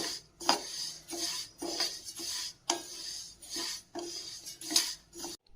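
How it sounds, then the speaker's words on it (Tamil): Moong dal dry roasting in a pan, stirred with a metal spoon that scrapes and clinks against the pan in regular strokes about every second, close and fairly quiet with no voices. "இதை நல்லா வறுத்துக்கலாம்."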